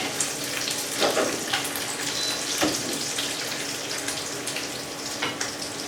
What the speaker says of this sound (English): bacon is risky business. You might get burned